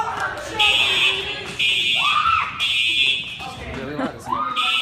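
A school fire alarm rings in loud repeated bursts, steady electronic tones broken by short gaps, while students talk and shout over it throughout.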